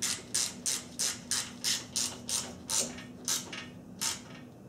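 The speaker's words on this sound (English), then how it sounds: "Then just tighten up the two upper fasteners." A 1/4-inch ratchet tightens the upper fasteners of a Honda Accord radiator fan into a plastic radiator side tank, giving about a dozen close, crisp, evenly spaced clicking strokes with no voices.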